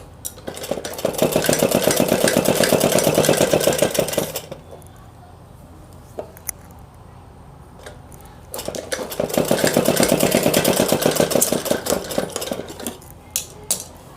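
A sewing machine stitches the paan-shaped neckline of a 31-inch suit, running in two steady, rapid bursts of about four seconds each, separated by a quiet pause with faint handling clicks.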